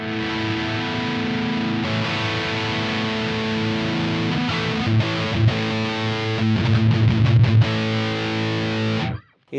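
An electric guitar played through a JHS Hard Drive distortion pedal at high gain, dense sustained distorted chords ringing steadily, with choppier strummed bursts near the end before cutting off abruptly.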